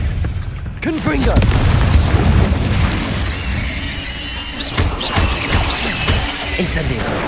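A Confringo blasting spell in Hogwarts Legacy goes off with a loud boom and squealing magical whoosh, followed by rumbling and ringing tones over a busy game soundtrack, with a voice speaking over it.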